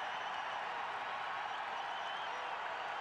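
A basketball crowd roars for the UNLV Rebels at a 1990 game against Loyola Marymount, a steady, fairly faint arena wash with no distinct peaks.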